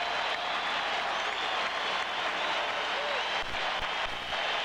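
A baseball stadium crowd cheers and claps in a broad, steady roar, heard from a broadcast booth, with brief thumps near the end.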